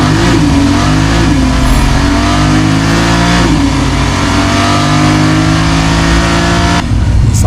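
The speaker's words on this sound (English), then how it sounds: "Do you want to see the engine in action?" A Porsche 992 Turbo S Mk II facelift engine revs loudly and close, rising and falling through two sustained revs with a deep, throaty tone, no talking over it.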